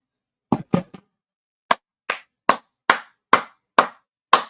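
Hand claps: a quick burst of three, then a short pause and seven evenly spaced, crisp claps. They are close and loud, with nothing else heard between them.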